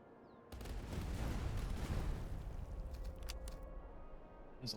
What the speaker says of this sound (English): There's a lot of artillery and it's hurting a lot.